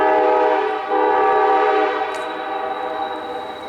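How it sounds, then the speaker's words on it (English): A passing train blasts its horn loud and close, a sustained multi-tone chord that holds steady and then eases slightly as it carries on, with no talking. "I came down and here comes the train."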